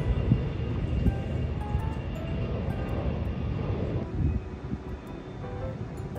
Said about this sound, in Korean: 또 비행기 간다.